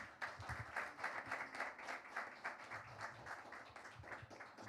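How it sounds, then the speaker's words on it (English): An audience gives a sustained round of applause at a jazz history panel event, dense steady clapping filling the room for several seconds with no talk over it. "Please help me give a huge round of applause."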